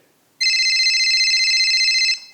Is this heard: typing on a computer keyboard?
no